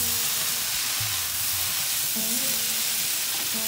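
Cauliflower sizzles and fries in a pan while being stirred, a continuous loud hiss with scraping and clinking from the spoon and low background hum throughout.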